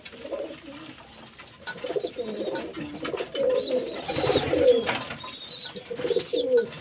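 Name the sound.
pigeons cooing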